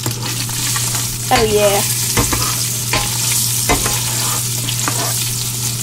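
Cicadas seasoned with garlic powder fry in a pan with a loud, close sizzle, while a utensil scrapes through them in several rhythmic strokes and a voice briefly speaks.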